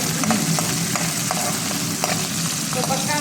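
Garlic, dried red chilies and curry leaves fry loudly and continuously in hot oil, a dense close sizzle with faint stirring clicks throughout.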